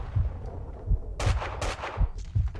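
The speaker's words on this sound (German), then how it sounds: "Also ich sah, woher der Schuss kam, aber ich sehe den Typen nicht." Gunfire in the video game Max Payne 2: a rapid series of about six punchy shots with sharp cracks, loud and close, with no talk.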